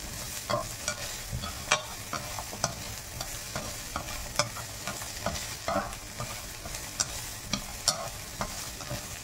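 Sliced ampalaya (bitter gourd) sizzles and fries in a pan on a high stove flame, a steady close crackle punctuated by regular sharp clinks and scrapes of stirring.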